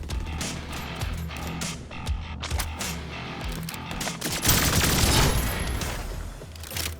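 Rapid automatic turret fire in a video game demo, dense rattling volleys that swell louder midway, continuous and layered with game sound effects, no voices.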